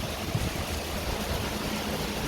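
Heavy rain with wind and running water on a flooded street, a steady rushing wash of water, continuous and moderately loud throughout.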